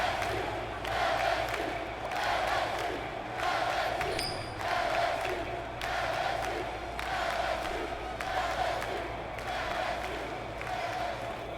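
Large stadium crowd at an LSU Death Valley college football game against Wyoming, roaring loudly and continuously in rhythmic swelling surges, with chants and cheers rising and falling every second or so.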